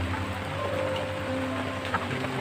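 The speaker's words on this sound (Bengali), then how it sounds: "আর এই যে দেখো তবুও বৃষ্টি হচ্ছে" Rain falling steadily on surfaces near a poultry shed, a soft continuous patter and hiss with scattered drops, no voices.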